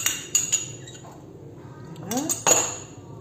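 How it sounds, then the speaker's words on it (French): Batter being mixed in a bowl after milk and oil are added for a tiramisu Yule log sponge, heard as a few close clinks and scrapes of a utensil against the bowl, with a short sliding scrape near the end. "On mélange."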